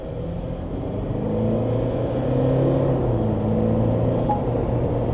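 A GWM Tank 300 with a 2.4-litre turbo diesel accelerating, heard from inside the cabin as a steady, loud engine drone that climbs gradually in pitch with a low rumble underneath, no talking.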